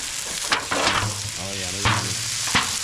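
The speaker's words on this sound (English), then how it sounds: "Some fried noodles going on." Fried noodles and steaks sizzling over a campsite cooking setup, with a constant loud frying hiss and a few scraping and tapping strokes of a utensil, plus a brief low voice-like hum partway through.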